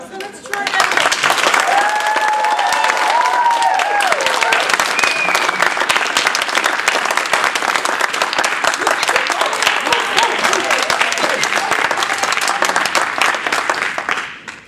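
Sustained, dense applause from an audience at a Toastmasters speech contest, steady and loud throughout with a few faint voices mixed in under the clapping.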